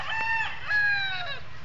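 A rooster crows loudly nearby on a farm, one long drawn-out call rising and then trailing off, with nothing else competing.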